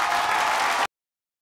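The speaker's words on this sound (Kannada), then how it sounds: "ಅವರಿಬ್ಬರಿಗೂ ಜೋರಾದ ಚಪ್ಪಾಳೆ" Loud applause from a studio audience at a Kannada television show welcoming a couple, a dense burst of clapping that cuts off abruptly after under a second.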